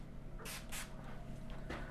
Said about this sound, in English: we're going to put a little bit of sea salt spray on to dry the top